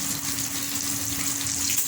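Fish pieces frying in hot oil in a pan, a steady close sizzle with soft crackling that holds at an even level throughout, no voices.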